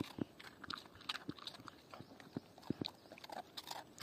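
A dog crunches Kurkure snacks, a series of quiet, irregular crisp bites and chewing sounds, faint and close.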